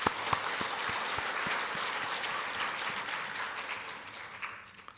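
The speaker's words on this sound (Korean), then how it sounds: "우리 박수 한번 합시다." A church congregation at a Sunday service breaks into warm, sustained applause, many hands clapping at moderate volume from across the room before tapering off near the end.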